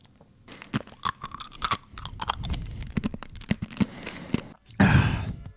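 Crunchy food from a viral recipe being chewed with repeated crisp crunches and bites close up over several seconds, followed by a louder breathy burst near the end.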